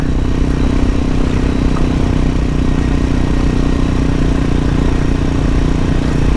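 A Triumph Scrambler 400 motorcycle engine runs steadily while riding on a coastal tour, producing a loud, continuous rumble with constant road and wind roar and no pauses.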